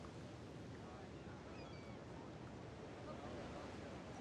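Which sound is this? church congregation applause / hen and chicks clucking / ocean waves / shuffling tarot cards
ocean waves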